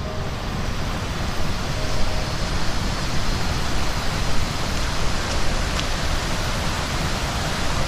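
Fast-moving water at Ton Tae Waterfall in Trang, Thailand, swollen after heavy rain: a dense, steady broadband rush that stays even and loud throughout, with no voices.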